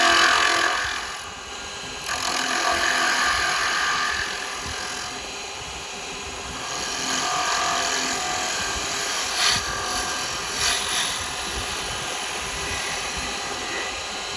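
A wood lathe spins a birdhouse blank while a carbide chisel cuts, a continuous whirring hum with a hissing, scraping texture that swells and eases as the tool rides the surface, no talk.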